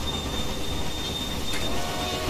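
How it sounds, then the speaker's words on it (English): A train rolls along the tracks in the Railway Empire video game, a steady rumble with faint wheel squeal and a thin high tone, continuous and unbroken throughout. "Any railway you hear at the moment will probably most likely be the rival railway to that side, to our right."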